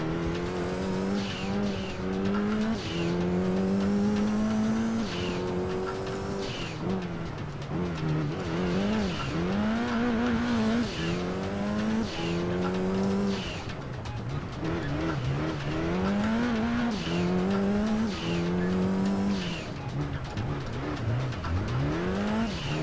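A racing car in the video game Gran Turismo 2 revs and shifts through gears continuously, engine pitch rising and dropping repeatedly with intermittent tire squeal, loud and close throughout.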